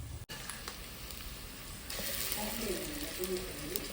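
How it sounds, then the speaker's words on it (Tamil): Ginger and garlic sauté in a pan with a steady sizzle that swells louder about halfway through, with a voice talking over it. "இஞ்சி பூண்டு போட்டாச்சு நல்லா கொஞ்சம் நேரம் வதங்கிட்டு"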